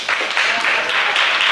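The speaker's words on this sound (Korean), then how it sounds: "다시 한번 박수." A church congregation at a Korean Sunday service gives a short, loud burst of applause, with steady dense clapping throughout and a voice speaking faintly over it.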